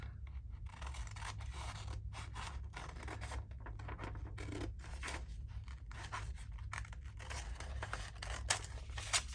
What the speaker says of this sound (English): Let's cut that off.